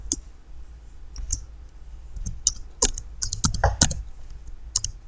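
Rapid irregular clicks of a computer keyboard being typed on nearby, with bursts of keystrokes and short pauses and no talking, during a website-building tutorial.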